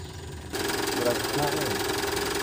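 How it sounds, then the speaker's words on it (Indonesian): An 80 kVA diesel generator set runs steadily at close range, its mid-pitched engine drone jumping louder after a brief quieter start and holding a constant rumble with a faint knocking texture, as voices talk over it. "80 kVA untuk genset yang dipakai Ataris"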